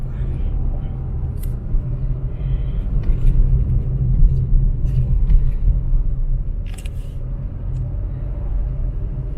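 Car interior rumble while driving through quiet city streets of Cebu, Philippines, near a business park, with steady low engine and road noise throughout and a few faint clicks.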